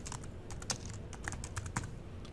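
Quick keystrokes on a computer keyboard as a username is entered, a steady patter of close clicks with a few sharper taps, no voices.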